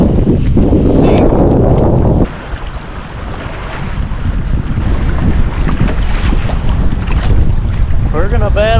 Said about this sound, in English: We're gonna battle the wind,